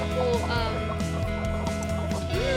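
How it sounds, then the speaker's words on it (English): A young Bantam Cochin hen, a cross between a mottled Bantam Cochin and a Partridge Cochin, clucks in short repeated calls close by, set against a steady tonal background. "she is a mix between Pepper, our mottled Bantam Cochin, and Jerry, the Partridge Cochin"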